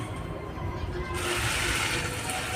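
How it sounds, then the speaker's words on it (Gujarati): Water poured onto a brinjal plant in a small home kitchen garden, a steady splashing gush that swells louder partway through and continues without pause. "પાણી પીવડાવવું પડે ઝાડને"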